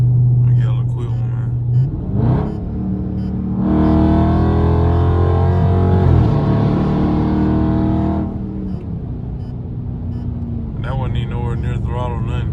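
A loud Dodge Charger Scat Pack V8 revs up hard for several seconds during a short acceleration pull at night, its roar swelling and then easing off, with someone talking before and after over the idle rumble.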